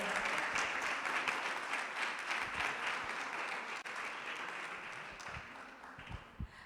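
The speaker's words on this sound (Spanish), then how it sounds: "les pido un fuerte aplauso para nuestros ponentes que nos acompañaron" Audience applause for the speakers at a regional meeting of complaints and grievances commissions: sustained, dense clapping from a sizeable crowd that holds steady throughout and thins slightly near the end.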